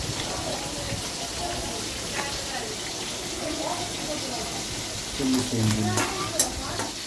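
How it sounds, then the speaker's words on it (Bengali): Red amaranth greens frying in a pan, a soft continuous sizzle and hiss, while a person speaks over it now and then and the sound grows a little louder toward the end. "লাল শাক ভাজি হবে।"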